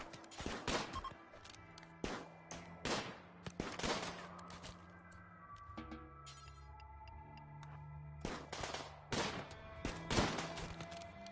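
Repeated gunfire bursts from the colony-building game RimWorld, sharp volleys and rapid clicking shots clustered at the start and again near the end, with a quieter stretch of ticking game effects and tones in between.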